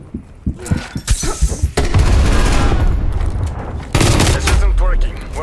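PPSh-41 submachine gun in Call of Duty Black Ops Cold War firing in loud rapid bursts, with a short stuttering volley followed by two long sustained streams of fire and game effects.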